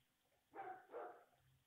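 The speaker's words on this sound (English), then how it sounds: "I hear a dog barking." A dog barks twice somewhere far off outdoors, faint and muffled, with a short gap between the two barks.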